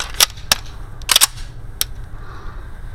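Bul 1911 single-stack 9x19 pistol firing IMI ammunition, about five sharp, close gunshots in quick irregular succession, two nearly back to back, with no talking.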